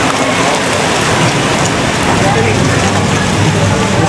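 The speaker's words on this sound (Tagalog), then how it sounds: "Yan na, ulan." Steady rain pours down outdoors in a dense, even hiss that stays loud and unbroken throughout, with no pauses or separate drops standing out.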